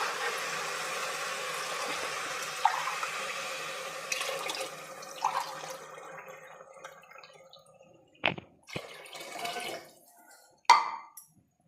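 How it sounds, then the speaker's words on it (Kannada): Water pours into a pot holding two glasses of rice to make rice upma, a running splash that trails off, followed by a few sharp clinks and knocks. "4 ಗ್ಲಾಸ್ ಆಗೋಷ್ಟು ನೀರನ್ನ ಸೇರಿಸ್ಕೊಳ್ತಾ ಇದ್ದೀನಿ"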